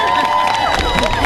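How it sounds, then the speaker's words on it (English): A large crowd at a welcome-back rally on a statewide presidential bus tour applauds and cheers loudly and continuously, with dense clapping and shouts filling the whole stretch. "We want to applaud these unsung heroes for what they continue to do."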